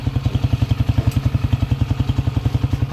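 A Honda TMX155 motorcycle engine, freshly refreshed, idles close by with a steady, rapid thumping beat and a faint mechanical clatter, loud and alone.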